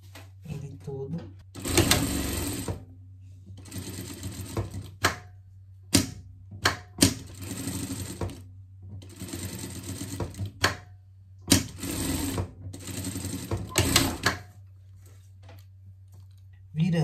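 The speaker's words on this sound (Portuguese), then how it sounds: "a gente vai passar uma costura aqui" Sewing machine stitching a seam on a small pocket for pet pajamas, in repeated rapid whirring bursts separated by short pauses, with someone talking quietly between runs.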